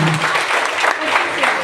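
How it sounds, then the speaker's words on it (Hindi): Seminar audience in Bilaspur, Chhattisgarh claps together in a brief, fairly loud burst, with a voice faintly mixed in. "ताली बजाओ"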